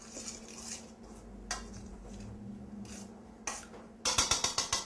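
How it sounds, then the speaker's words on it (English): A utensil mixes salt and pepper into a vegetable lasagna filling in a bowl, with soft scraping and occasional knocks, then a quick series of rhythmic clinks at the end. "I'm just going to mix this together until it's pretty well incorporated"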